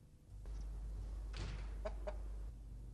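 A rooster gives a few brief clucks, close and fairly quiet, over a steady low hum in an indoor scene from a Turkish TV comedy, with no talking.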